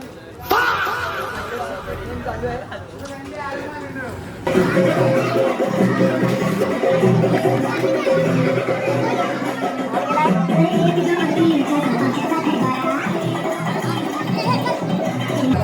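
A crowd gathered at a Dahi Handi practice ground, a dense, busy murmur of many voices with scattered laughter, heard close and continuous, with one voice talking nearby over it.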